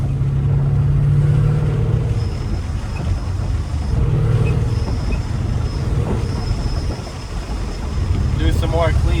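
A supercharged Ford Mustang GT 5.0 with a loud exhaust and blow-off valve drones heavily through downshifts. The low roar rises and falls in waves, with a short whistling flutter near the end.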